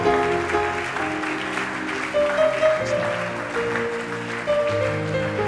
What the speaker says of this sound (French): Acclamez fortement alors qu'ils avancent.